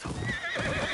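A horse on a farm in the video game Ghost of Yotei neighs in one long, loud, wavering whinny that fills the whole second, with hooves faintly clopping underneath.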